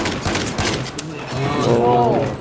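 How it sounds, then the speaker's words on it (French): Machine gun fire in a Battlefield video game, loud rattling bursts through the first half, then a blend of game noise and effects, with people talking excitedly over the shooting. "Mitraillette."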